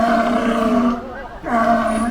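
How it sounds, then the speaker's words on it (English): A California sea lion at a seal show at Taronga Zoo Sydney gives two loud, close, harmonic barks, separated by a brief pause. "that loud, distinct bark that most people do associate"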